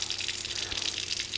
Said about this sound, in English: let's turn on some water